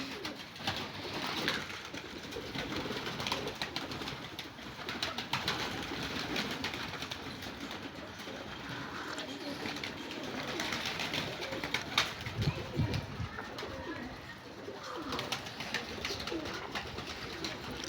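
Pigeons, including hungry young birds being trained to land on a home rooftop loft, coo steadily and close by for the whole stretch, with layered overlapping calls and no talking.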